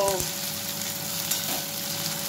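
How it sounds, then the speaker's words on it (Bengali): Onions fry steadily in a hot pan for a home-style country chicken curry, giving a continuous, even sizzle with no talking. "পেঁয়াজটা ভাজা হোক"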